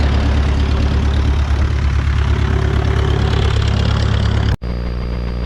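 An RV6 aircraft engine idles loudly and steadily on a cool, above-freezing spring day while warming up. A deep, even rumble holds close by, dips briefly near the end, then settles back at a slightly lower level.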